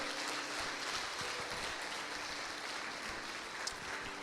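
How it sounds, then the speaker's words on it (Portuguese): A church congregation applauds loudly and steadily at the end of a sermon, a dense, sustained wash of clapping with no talk over it. "Aplauda bem forte ao Senhor."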